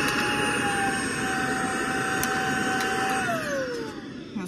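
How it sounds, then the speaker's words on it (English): A Tineco iLoop S10 cordless stick vacuum cleaner runs with a steady, loud motor whine and airy rush, its pitch holding level, then sliding downward near the end as the motor winds down. "When you're vacuuming, you can see it turn blue."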